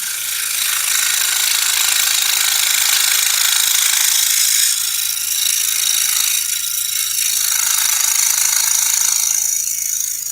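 DeWalt scroll saw cutting, a steady loud buzzing drone with a bright high-frequency rasp that runs continuously and evenly throughout, with no talk.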